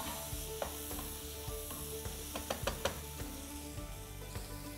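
Rice fries in a pan with boiled kidney beans (rajma) and corn, making a quiet, constant sizzle. Several light clicks of a spoon stirring come through it, with no voices.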